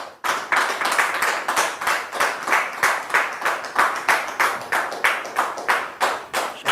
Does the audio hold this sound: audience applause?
yes